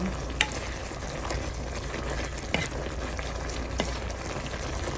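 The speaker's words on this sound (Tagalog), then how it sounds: "Pwede na natin siyang haluin." Food fries in a pan with a steady crackling sizzle, broken by a few sharp scraping knocks as it is stirred, close and fairly quiet.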